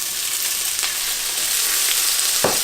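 Garlic and pepper flakes sizzle in hot oil in a wok just before shrimp go in, a bright, steady hiss with a single sharp clank near the end.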